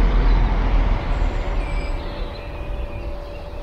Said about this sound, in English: Oh, wait, in fact, there is a train.